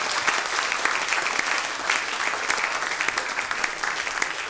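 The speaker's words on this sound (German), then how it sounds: "Riesigen Applaus für das Grossi.ch." An audience at a Swiss folk music stubete claps in steady, dense applause that stays even and fairly close for the whole few seconds, with no speech over it.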